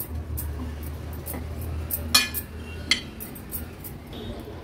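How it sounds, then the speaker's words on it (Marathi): A spoon stirs a chili stuffing mixture in a bowl, making scattered clinks and scrapes against the bowl over a low background hum. "आता व्यवस्थित हे मिक्सचर आहे ना मिक्स करून घ्यायचे आपल्याला"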